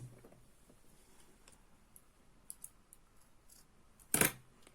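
Scissors snip through yarn during crochet work: one short, crisp cut near the end, preceded by faint scattered handling ticks in a quiet room.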